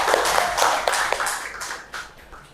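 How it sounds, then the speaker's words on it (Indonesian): A group of participants claps together after a classroom group presentation. The applause is steady and close, with sharp overlapping hand claps, and a faint voice is heard underneath. "beri tepuk tangan dulu untuk teman-teman."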